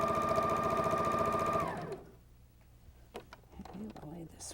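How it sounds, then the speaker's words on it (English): A sewing machine runs along the edge of a table runner with a loud, steady, close motorized hum and needle clatter, then stops; quiet handling noises and faint speech follow. "just continue sewing until you have the whole edge sewn"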